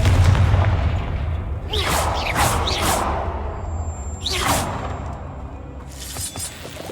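Confringo blasting spells in Hogwarts Legacy, several whooshing fiery bursts that each end in a booming explosion, heard in quick succession against a low ambient rumble.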